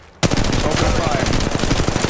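Automatic gunfire in Apex Legends Mobile erupts suddenly after a quiet moment, a loud, continuous rapid-fire stream of shots with overlapping impacts.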